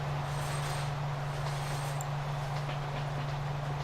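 A train runs steadily in the Transport Fever game, a continuous low rumble with a sustained hum, joined by a faint clack and a brief high squeal partway through.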